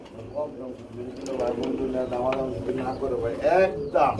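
Pigeons coo softly at a market stall selling running pairs, their low warbling calls rising and falling under near, continuous talk from sellers and buyers.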